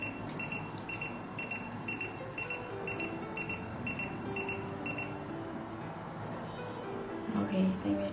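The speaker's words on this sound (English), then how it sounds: "Speed alarm." A rapid run of sharp, high electronic beeps in quick pairs from a VJOYCAR V60 OBD head-up display speed alarm repeats for about five seconds and then stops, over a low steady hum.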